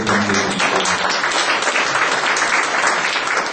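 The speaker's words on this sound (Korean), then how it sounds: "박수를 격려해 주시고" Audience applause fills a research workshop, a dense, steady wash of many hands clapping at close range, sustained evenly throughout with no talking over it.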